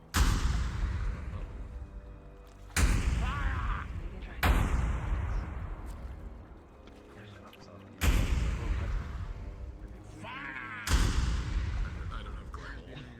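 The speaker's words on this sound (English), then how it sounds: "I'd fire the cannons." Five heavy cannon blasts boom at irregular intervals a few seconds apart, each with a long rumbling decay, in the game VRChat.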